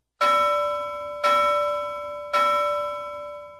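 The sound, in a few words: bell rung at a gate, ringing out clearly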